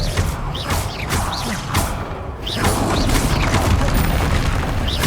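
Confringo and Glacius spell blasts in the Hogwarts Legacy video game. Repeated whooshing casts and booming, crashing impacts arrive in quick succession, loud and close, with clanking mechanical clatter under a steady battle din.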